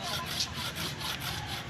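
A handsaw cuts back and forth through the trunk of a storm-felled tree in a rural province, giving a quick, even rhythm of rasping strokes close to the microphone.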